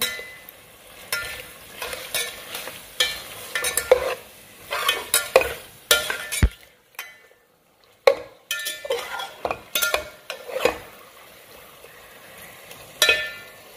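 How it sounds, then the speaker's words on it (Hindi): Boneless chicken cubes fry with onions in a pan, sizzling while a utensil stirs and scrapes in irregular bursts, with metallic clinks against the pot and a brief pause midway. "अब इसमें डाल रही हूँ मैं chicken, boneless chicken cube shape, और इसको मज़ीद थोड़ा सा करेंगे फ्राई"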